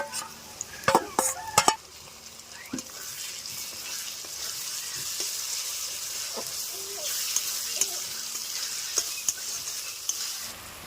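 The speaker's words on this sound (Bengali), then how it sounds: "আদা জিরে বাটা দিয়ে একটু নেড়ে চেড়ে কষিয়ে নিয়েছি" Ginger and cumin paste fried with onion and garlic for a mutton curry gives a steady, close hiss of sizzling oil, broken by a few sharp spatula clicks and scrapes against the pan.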